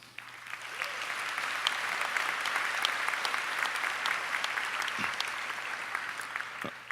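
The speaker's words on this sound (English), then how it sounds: "I think that everyone deserves a round of applause" A graduation ceremony audience gives a sustained round of applause, dense and even clapping that carries on for the full seven seconds with no talk over it.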